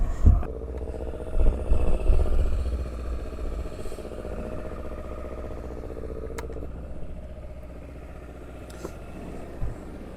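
A Kawasaki Versys 650 on brand-new Shinko 705 tyres with a 19-inch V-Strom front wheel, ridden on a cold winter outing, gives a low rumbling engine drone that swells loudly at first and then settles into a steady, continuous hum.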